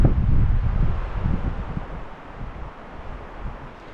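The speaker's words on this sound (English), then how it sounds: "it's windy." Wind gusting through a forest, a loud rushing buffet with rustling that is strongest at first and then eases to a softer, steadier whoosh.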